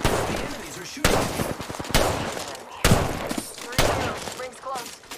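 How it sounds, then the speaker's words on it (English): Rapid bursts of gunfire from the Apex Legends video game rattle in loud, dense volleys with several sharp shots, close and continuous with no talking. "The enemies are shooting."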